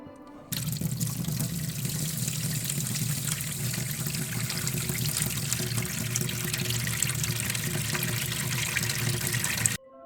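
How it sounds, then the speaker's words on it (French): Spring water from Vittel pours steadily as people fill bottles, a continuous close splashing rush that starts abruptly and stops just before the end, with no talk. "des personnes s'y pressent quotidiennement pour remplir des bouteilles"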